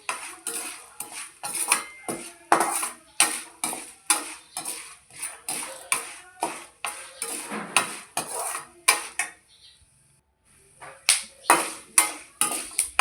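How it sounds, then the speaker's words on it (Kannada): Peanuts being dry-fried and stirred in a metal pan, with repeated close, loud scraping and clattering strokes of a spoon against the pan in a steady rhythm and one brief pause near the end. "ಎರಡು ಮುಟ್ಟಿಗೆ ಆಗುವಷ್ಟು ಶೇಂಗಾ ಕಾಳು ಇದನ್ನು ಚೆನ್ನಾಗಿ ಫ್ರೈ ಮಾಡಬೇಕು"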